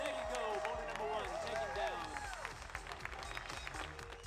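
A crowd cheers and applauds at a climbing World Cup bouldering competition in Salt Lake City, with steady clapping and shouts filling the space under an announcer's talk.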